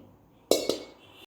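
A lid goes onto a cooking pot of chicken biryani set to steam on low heat. One sharp metallic clink is followed by a smaller second knock and a short ringing settle, close and alone.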